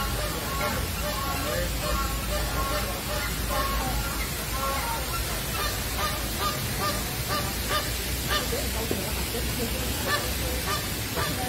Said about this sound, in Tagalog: Ayan, American flamingo siya